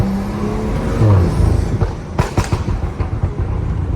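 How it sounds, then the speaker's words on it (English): BMW F30 sedan with an XHP transmission tune downshifting, engine revs rising then a burst of sharp crackling pops and bangs from the exhaust, close and loud. "Downshift, look."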